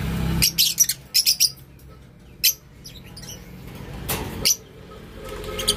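Young, not-yet-fully-feathered chicks in a mini aviary chirp in quick high bursts, with several clustered calls early on and scattered chirps later over a quiet background.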